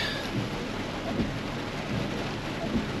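A thunderstorm catches up with a driver on a road trip, bringing dense, steady rain that hisses without a break and low thunder that rumbles beneath it.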